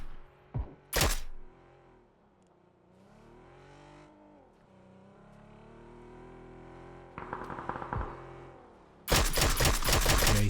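Gunfire in the battle-royale game PUBG during a King of the Hill custom match, a few sharp distant shots and a loud dense burst near the end, set against a low rumbling vehicle-like drone.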